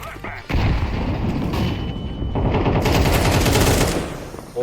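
Counter-Strike video game gunfire in rapid, dense automatic bursts, loud and continuous for several seconds with a voice mixed in.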